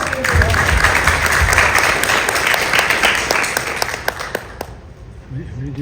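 Loud, close applause from the audience at a chamber of commerce board installation event, dense at first and thinning out near the end as the clapping dies away.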